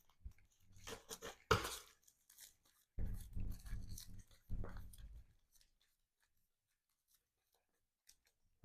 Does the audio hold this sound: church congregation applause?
no